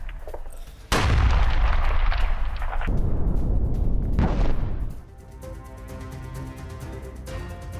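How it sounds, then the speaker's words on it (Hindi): Explosions and heavy blasts from Israeli air strikes on Yater in southern Lebanon: a sudden loud boom followed by sustained roaring blast noise, a second burst midway, then a lower rumbling tail, with no speech. "लेबनान के यतेर में इजरायली सेना का हवाई हमला।"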